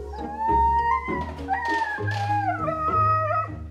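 Dogs in airport kennels howl and whimper together, several overlapping wavering cries rising and falling close by, with short yips mixed in and no talk over them.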